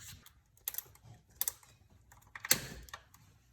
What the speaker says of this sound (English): Now get a zip tie and get it on there.